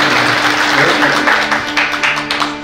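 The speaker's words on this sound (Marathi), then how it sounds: "जोरदार टाळी" Steady, dense applause from a crowd at a Marathi kirtan gathering, continuous and fairly loud throughout.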